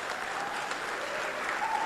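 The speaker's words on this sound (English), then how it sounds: "I don't want to take time for applause, please." Sustained audience applause at a civil disobedience talk, dense steady clapping from a crowd, fairly loud and continuous throughout without pause.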